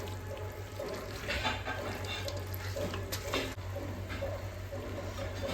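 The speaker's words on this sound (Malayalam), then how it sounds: "ഇനി ഇത് നന്നായിട്ട് ഇളക്കിയിട്ട് നല്ലോണം ഇത് മസാലയൊക്കെ ഇതിൽ പിടിക്കണ വരെ ആക്കാം" Chicken biryani masala is stirred in a pan: soft scraping and gentle sizzling at low volume, with a steady low hum underneath and small bumps of the spoon moving through the mixture.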